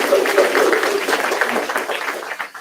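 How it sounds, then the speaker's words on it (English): Audience applause at a grand opening and ribbon-cutting ceremony, a steady wash of many hands clapping with some crowd voices mixed in, fading toward the end. "Give him a nice round of applause."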